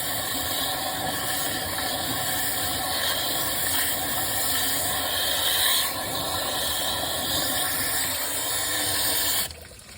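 Water flushing out of a Jeep TJ cooling system and running onto the ground, a steady, loud broadband hiss and splash that continues unbroken for most of the stretch, then drops off abruptly near the end.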